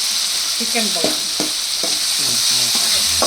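Chicken pieces go into a sizzling tomato masala for chicken gravy, with loud close frying, short scraping stirs repeating every half second or so, and no speech.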